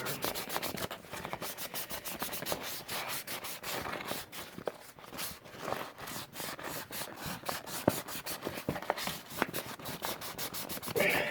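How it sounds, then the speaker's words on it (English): A cosplay head piece is rubbed and scrubbed in quick, repeated back-and-forth strokes, close and steady for the whole stretch with no talk. "Let's give it a good scrub and maybe cut this a little more."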